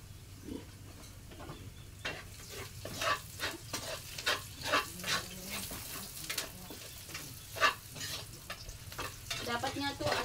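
Crab stirred and sautéed in oil in a pan, with a steady sizzle and repeated scraping stir strokes at close range, no talking.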